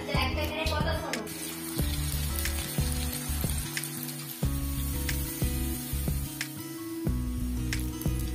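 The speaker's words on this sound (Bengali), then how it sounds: "এখানে হবে আলু ভাজা, পটল ভাজা, উচ্ছে ভাজা।" Potato, pointed gourd and bitter gourd fry in a hot wok with a continuous oily sizzle, broken by recurring low thumps and clatters of cooking activity.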